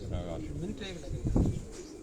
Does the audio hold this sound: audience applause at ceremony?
no